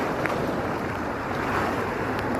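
Sea waves washing and pulling back along a beach near a mussel bed at Headland Bay, a steady broad rush of surf with wind noise and no talking.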